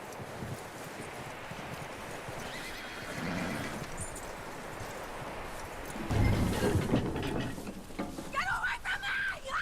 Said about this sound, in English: Get that horse hitched.